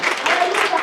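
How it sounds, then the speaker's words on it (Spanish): Congregation applause during a bilingual church service, a dense, steady wash of many hands clapping throughout the short burst with faint voices mixed in. "Give a hand to the Lord."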